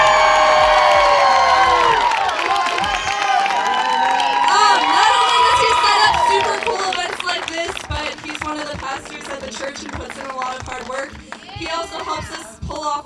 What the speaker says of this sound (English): Can we give a big round of applause for the one and only Jamin